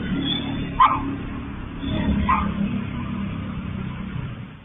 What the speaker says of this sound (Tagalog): tumahol ang aso ng may-ari